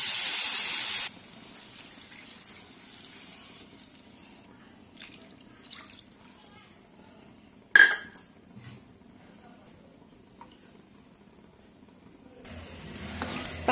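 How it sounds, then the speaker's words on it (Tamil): Water is poured from a cup into roasted semolina in a pan while making wedding-style kesari. A loud splash at the start quickly drops to quieter trickling, light clinks and scattered knocks nearby. "இந்த ஸ்டேஜ்ல நம்ம எந்த கப்ல ரவை எடுத்தோமோ அளந்து அதே கப்ல 3 கப் தண்ணி ஆட் பண்ணிக்கலாம்"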